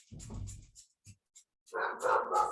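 Several dogs barking indoors in a burst at the start, then scattered single barks before a louder, denser stretch of barking near the end.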